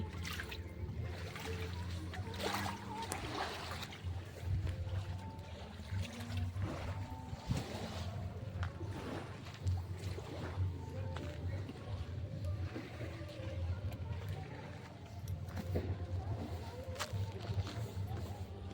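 Waves lap against the shore and moored boats at the Mukutmanipur dam lake, a soft continuous splashing and trickling wash with faint low rumble and occasional distant voices.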